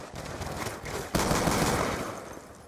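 Gunfire in the Black Ops 2 video game during Gun Game on the Hijacked map, a rapid loud burst of automatic shots intensifying partway through, with no talking.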